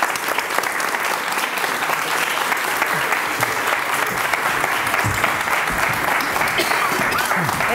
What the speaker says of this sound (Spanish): Un aplauso para ellas ahora.